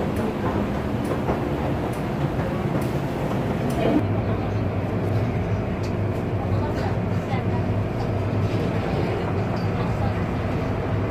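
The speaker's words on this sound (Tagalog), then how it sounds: "Yung ano isang train doon papunta naman doon sa kabila." An MTR train in a Hong Kong station rumbles steadily, a continuous low mechanical drone and rolling noise with faint clanks, while a person talks over it.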